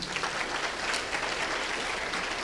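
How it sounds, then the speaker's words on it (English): Guests at an athletic hall of fame banquet applaud in a dense, continuous patter that is fairly quiet and heard on its own. "please have a round of applause for Mary."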